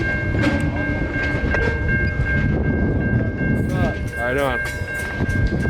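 CSX local freight train A711 shoving cars out of the southern end of Dalton Yard across Morris Street, a loud continuous rumble and clatter of rail cars with a brief squeal, while someone speaks briefly over it.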